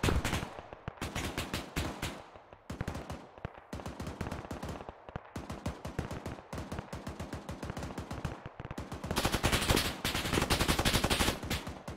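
An M249 machine gun fires in the military video game ArmA 3, with long, loud sustained bursts of rapid automatic gunfire, brief gaps between strings, and a heavier barrage near the end.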